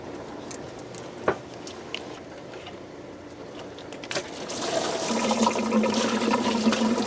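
Coolant gushes from a loosened water pump hose into a drain pan beneath a car being converted to twin turbo, first faint trickles and a clunk, then a steady rushing pour for the last few seconds.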